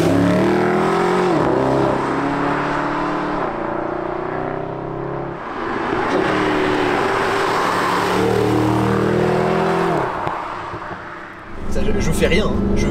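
A Mercedes SLS AMG Roadster, 571 hp, revs hard while sliding, its engine rising and falling in repeated loud surges with tyre noise beneath, close and dominant, and someone talking over it.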